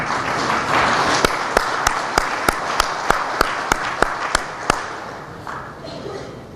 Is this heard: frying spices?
no